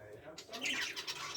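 Pet budgerigars, canaries and finches chirping and calling together from their cages, a busy, faint chorus of bright tweets.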